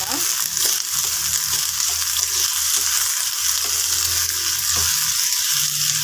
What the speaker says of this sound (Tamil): இப்போ நல்லெண்ணெய் ஊற்றிக்கிட்டோங்க நம்ம வெட்டி வச்சிருக்கிற இந்த பீக்கங்காவை சேர்த்துக்கலாம் இப்போ இதை நம்ம வதக்கிக்கலாம்